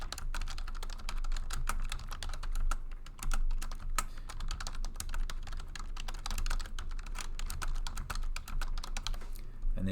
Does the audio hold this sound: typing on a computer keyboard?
yes